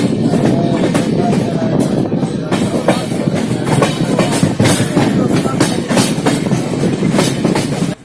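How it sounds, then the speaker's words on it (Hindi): A train running on the main line as it gathers speed, loud and close with steady rolling rumble and rhythmic clickety-clack of wheels over rail joints throughout. "अब हमारी ट्रेन धीरे धीरे स्पीड पकड़ना शुरू करेगी"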